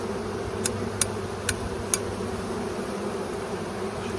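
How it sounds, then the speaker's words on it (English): Honeybees buzzing during a colony cutout, a dense steady insect hum close by, with four sharp regular ticks or taps spaced about half a second apart early on. "let's see if we can slide the bees off that"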